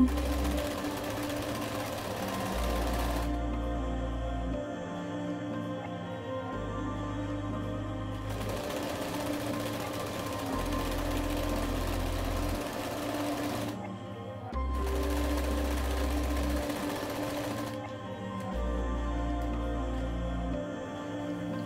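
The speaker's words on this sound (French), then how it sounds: "Donc là, je vais coudre à peu près sur demi-centimètre." Sewing machine stitching a French seam about half a centimetre in from the fabric edge, running in steady mechanical bursts of rapid needle chatter separated by short pauses, close and alone.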